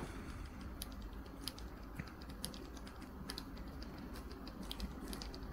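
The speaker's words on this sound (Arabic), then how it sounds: "نضغط على خانة البحث ونكتب Unlinked" Keys clatter as an app name is typed into a search box on a keyboard, a steady run of light clicks alone over faint room hiss.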